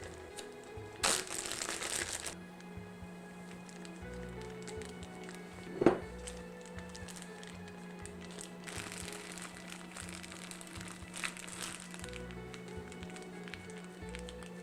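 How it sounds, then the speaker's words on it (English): A large gallon Ziploc plastic bag with its corner cut off is handled as a piping bag for a smoked salmon appetizer filling. It gives bursts of close crinkling and rustling around a single sharp tap, with quiet stretches between. "we're going to make our own piping bag by using a large gallon Ziploc bag and just taking off the corner"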